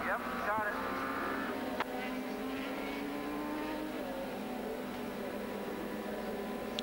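CART IndyCar race cars running behind the pace car at Miami, a steady engine drone heard over a crowd, with a commentator talking throughout.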